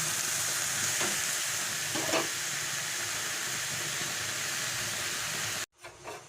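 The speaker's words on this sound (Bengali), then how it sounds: "যতক্ষণ না আমার লাউ শাকটা সেদ্ধ হয় ততক্ষণ আমি এটাকে রান্না করে নেব" Continuous close sizzle of bottle gourd leaves cooking with pea lentils in a hot pan, a dense steady frying hiss with faint stirring scrapes, cutting off abruptly near the end.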